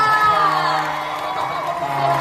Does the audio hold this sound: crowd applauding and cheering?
yes